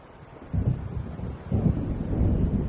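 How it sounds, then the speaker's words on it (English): Low rumbling thunder from an approaching storm in the video game Alan Wake, rolling in two or three swelling waves over a steady windy background, fairly loud and close. "It seems there's a storm coming."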